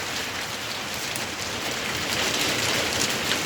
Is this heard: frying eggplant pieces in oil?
no